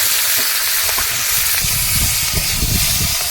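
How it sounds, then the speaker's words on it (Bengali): Bitter gourd and tomato fry in oil in a wok over a high flame, giving a dense, steady sizzle and hiss with small crackles, close and continuous with no talk. "কড়াইতে দিয়ে দিল পরিমাণ মতো তেল এবার উচ্ছে উচ্ছে আর টমেটোটা ভেজে নেবে হালকা করে"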